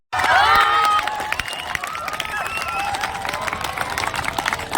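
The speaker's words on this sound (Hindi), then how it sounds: "आप लोग ताली बजा कर भी सम्मान कर रहे हैं।" Audience at a Dr. Rajendra Prasad birth anniversary and Advocates' Day function claps to honour a guest, with a loud opening burst settling into steady, dense applause and a speaking voice over the top.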